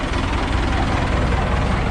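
A tractor engine drones steadily at a paddy field, arriving to haul away harvested rice; a continuous loud, low rumble with no pauses and no speech.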